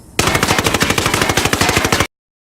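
An MP5 submachine gun in Ghost Recon Wildlands fires one long continuous automatic burst with recoil compensation, producing rapid, evenly spaced loud shots for about two seconds before stopping abruptly into silence.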